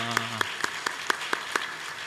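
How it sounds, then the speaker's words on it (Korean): Church congregation giving a short round of welcoming applause, faint sparse claps spaced evenly in a quiet sanctuary after a brief bit of talk. "격려의 박수 한번 주겠습니다."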